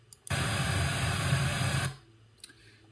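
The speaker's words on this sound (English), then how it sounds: "the pink noise will come from both monitors as such" Pink noise test signal played through a pair of studio monitors with panning centered, a steady broadband hiss that starts abruptly, holds evenly for about a second and a half, then cuts off, leaving quiet room tone.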